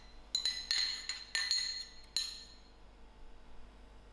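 A spoon clinks sharply against a glass bowl while pea stuffing filling is mixed, about half a dozen bright close taps in quick irregular succession, then quiet.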